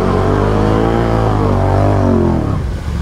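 An off-road vehicle accelerates in high gear across ice, its engine roaring loud and close with a steadily climbing pitch that peaks and then eases off near the end.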